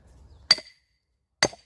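A metal wedge is struck into a wood round to split it, giving two sharp, ringing metallic clinks about a second apart, close and crisp against near silence.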